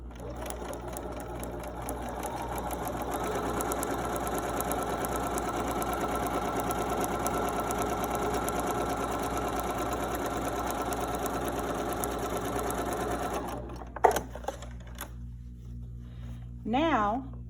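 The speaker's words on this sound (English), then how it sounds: "I will take this to my sewing machine, and I am going to sew 1/4 inch" A sewing machine whirs steadily at close range for a long stretch, then stops with a few clicks, followed by a short murmur.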